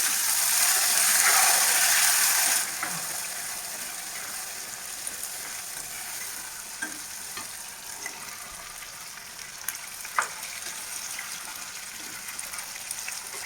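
Onions and garlic frying in a pan with dried red chillies and asafoetida for tomato chutney, a loud hiss at first that settles into a steady, quieter sizzle with occasional stirring clicks.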